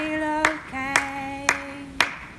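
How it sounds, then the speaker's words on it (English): Four sharp hand claps ring out at an even, steady pace in a lambing shed during a children's music session, each one crisp and close, over a sustained sung or hummed tone. "Can you clap your hands"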